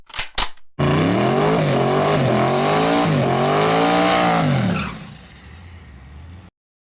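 Drag car making a quarter-mile pass, its engine roaring loud and close as it climbs through the revs with several gear shifts, then cutting off abruptly as it fades away.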